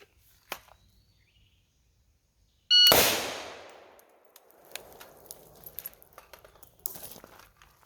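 A carbine fired from the 6-yard line during a shooting drill: one loud, sharp report with a ringing decay, followed by faint metallic clinks and small knocks in an otherwise quiet range.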